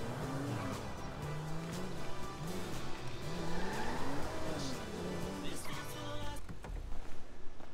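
A car in GTA V drives with a revving engine whose pitch swoops up and down as tires squeal and skid in wavering tones, loud and continuous, with a sharp clunk near the end.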